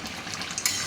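A lid comes off a pot of food boiling on the stove, with a short metallic clink followed by a steady bubbling hiss close by and no talk.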